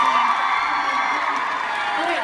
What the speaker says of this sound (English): give Taylor a round of applause for helping me out